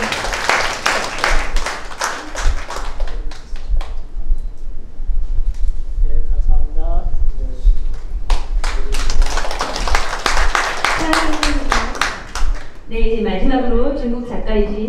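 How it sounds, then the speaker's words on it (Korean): Audience applause at a Korean art association award ceremony, with bursts of clapping and taps running through most of the span amid an announcer's speech and background music. "박수 부탁드립니다"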